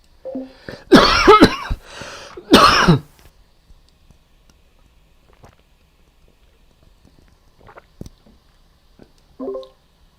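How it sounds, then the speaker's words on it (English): A person coughs in two loud, close bursts near the start, followed by near silence with faint clicks and a small throat-clearing sound near the end. "I'm going to have to cough"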